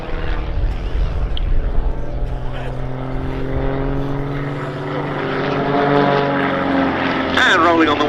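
Team Raven aerobatic propeller aircraft fly a display at the Duxford summer air show, a loud steady engine drone with rising and falling pitch as they pass, while a commentator talks over it.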